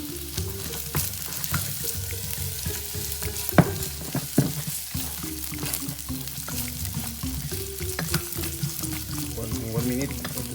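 Garlic fries in a pan for Korean-style pork ribs, a steady close sizzle with occasional stirring scrapes and clinks running throughout.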